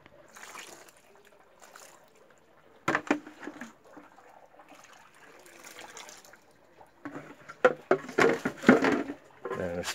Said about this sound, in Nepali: यसमा मैले पानी राख्छु